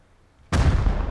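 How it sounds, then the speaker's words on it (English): An explosion at a team's base in Rust, a sudden loud blast after near silence that rolls into a sustained roaring rumble. "there's explosions going down already here at Beachills' base"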